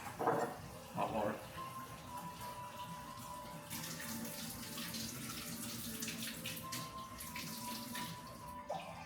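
Hot water runs steadily from a kitchen tap while bread dough is being mixed, a continuous hissing stream under faint background clatter and a few brief handling sounds.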